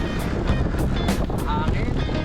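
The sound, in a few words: strong wind ahead of an approaching typhoon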